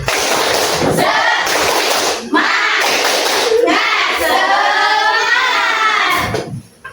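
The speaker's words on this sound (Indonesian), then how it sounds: "Tepuk semangat" A class of children performs the tepuk semangat, a rhythmic clapping chant, with bursts of claps and chanted voices in a repeating pattern, loud and close.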